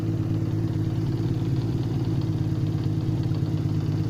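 Honda CBX motorcycle engine running steadily at about 3000 RPM during an alternator test, a close, even mechanical hum with a constant low drone and no variation.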